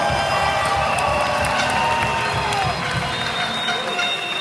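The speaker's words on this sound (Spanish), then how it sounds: "Dale un fuerte aplauso." A large audience at a talk applauds and cheers, a dense roar of clapping mixed with shouts and whoops that holds at full strength throughout, voices rising out of the crowd.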